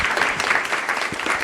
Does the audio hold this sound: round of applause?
yes